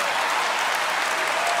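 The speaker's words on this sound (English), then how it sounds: "But a round of applause." An audience at a comedy show breaks into applause, a loud, full and sustained wash of many hands clapping at once, steady throughout with no one speaking over it.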